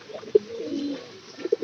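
Pigeons cooing close by in soft, low, rounded bursts, a short call near the start and another pair near the end, with quiet murmuring in between.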